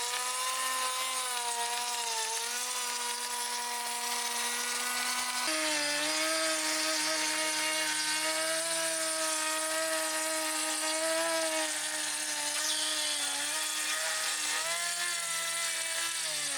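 A router bit cuts an angled groove along a wooden exterior siding board, a loud continuous whining power-tool drone that holds steady for the whole stretch with slight shifts in pitch as the cut proceeds.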